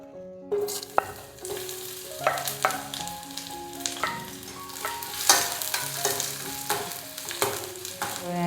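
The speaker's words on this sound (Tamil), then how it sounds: "கேரட்டு, பீன்ஸு, உருளைக்கிழங்கு இதெல்லாத்தையும் சேர்த்து நம்ம நல்லா வதக்கிக்கலாம்" Onion, carrot, beans and potato sauté in hot oil in a kadai for vegetable samosa filling, a steady crackling sizzle broken by repeated clinks and scrapes of a stirring spoon against the pan.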